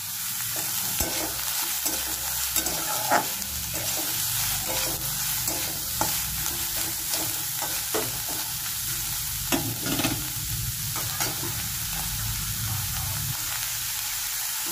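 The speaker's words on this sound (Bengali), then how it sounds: "এবার আদা আর রসুনটা দিয়ে দিলাম।" Ginger and garlic frying in a pan for chicken kasha, giving a loud, continuous close sizzle broken by intermittent spatula taps and scrapes, with no talking.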